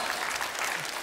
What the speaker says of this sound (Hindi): आर्को के लिए जोरदार तालियां हो जाएं